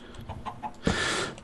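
Minecraft chickens clucking on a skyblock island, a few short close clucks in quick succession followed by a brief louder squawk and a burst of noisy rustle.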